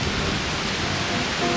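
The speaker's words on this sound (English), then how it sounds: "it's raining slightly now" Light rain falls during an uphill hike on a volcano, a dense, steady hiss with a low, windy rumble underneath and no voices.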